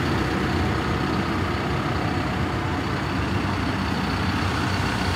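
A 2011 CAT TH 336 telehandler with a 127 hp engine idles steadily right after starting, giving a continuous, loud, even diesel rumble with no breaks and no voices.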